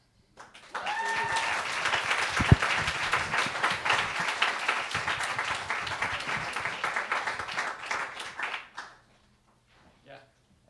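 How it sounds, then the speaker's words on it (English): A crowd breaks into sustained, enthusiastic applause with a few cheers, fading out after about eight seconds, followed by a brief voice. "So we give a big round of applause for Natalia from BMORE."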